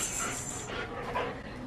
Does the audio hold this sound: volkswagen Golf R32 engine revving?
no